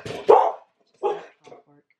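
A small dog barks indoors in a few sharp, close yaps spaced over two seconds, the later ones shorter and quieter, with no one talking.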